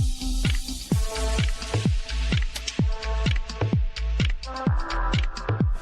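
Grape juice dripping and squishing while a bag of grapes is pressed by foot for homemade red wine, a rapid, irregular series of close wet drips and splats over a low background rumble.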